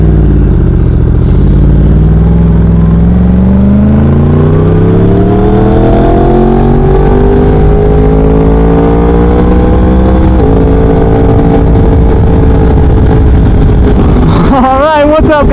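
A Yamaha R1 sport motorcycle with a Leo Vince exhaust rides past, loud and close, its engine note climbing through several rising runs, each followed by a drop, with wind roar throughout.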